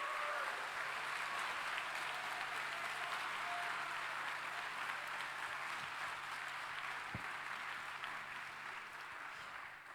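A large audience at the 2019 Formula SAE Michigan awards ceremony applauds office staff, a continuous even wash of clapping that stays steady throughout and tapers slightly near the end.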